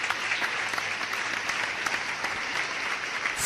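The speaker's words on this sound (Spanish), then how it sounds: "Un aplauso fuerte al Señor." A church congregation claps in strong, sustained applause, dense and even throughout with no talking over it.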